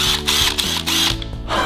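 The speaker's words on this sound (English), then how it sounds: "This is a cordless drill." Cartoon cordless drill runs with a steady mechanical whir and a ratcheting, geared hum, close and fairly loud, changing pitch slightly in short steps.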